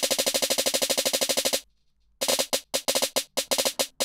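A rapid snare roll from a 909 drum rack, driven by an arpeggiator in thirty-second notes. It starts as a fast, even burst, breaks off into a short gap, then returns as choppy, stuttering bursts.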